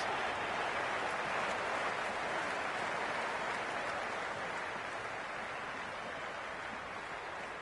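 Crowd at a live IPL T20 cricket match, KKR playing, producing a dense, sustained roar of cheering and clapping that stays loud and even throughout.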